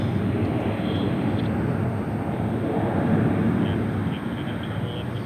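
An airliner passes near San Francisco airport, a steady, broad jet engine roar that swells slightly midway and then eases off.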